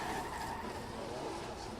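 A drift car in competition locks its wheels and skids with a loud sustained tire screech over engine roar, close and continuous throughout.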